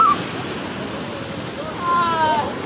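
Water splashes and surges against a ferry boat crossing to St Mary's Island near Udupi, a close, wind-buffeted wash that swells louder near the end, with faint voices mixed in.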